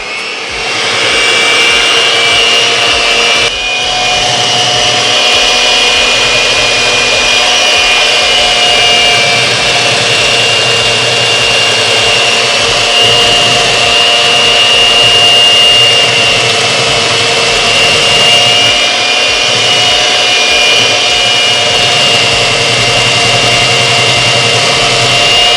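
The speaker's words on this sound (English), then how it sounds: "We're gonna whisk it until it's at stiff peak." An electric whisk beats a rum and raisin ice cream base toward stiff peaks, a steady loud motor whine with a grinding, buzzing edge that runs continuously with only a brief dip.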